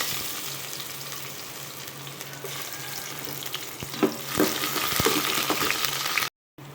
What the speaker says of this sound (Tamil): இப்போ இது சூடானதும் இதில் நம்ம கட் பண்ணி வச்சுருக்க இந்த வெங்காயத்தை சேர்த்துக்கலாம்.